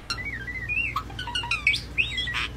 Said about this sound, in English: Why does that bird sound like a computer?